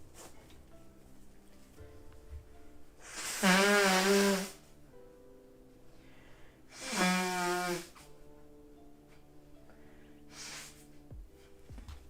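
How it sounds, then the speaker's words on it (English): Two bursts of forceful nasal blowing into a tissue, a few seconds apart, followed by a softer third puff over quiet background hum. "let me just get a tissue real quick to blow my nose"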